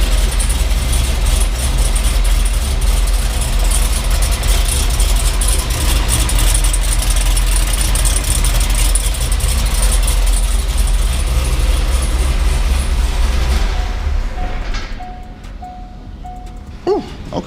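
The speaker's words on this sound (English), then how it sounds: "We're gonna start her up right quick." A C5 Corvette engine runs at a steady idle just after starting, a loud continuous low rumble that holds evenly for most of the clip before cutting off near the end, followed by a few faint short tones.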